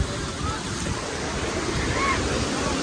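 Sea waves roll in at Digha beach during high tide: a continuous, loud, broad surf roar mixed with wind buffeting the microphone, and no distinct voices.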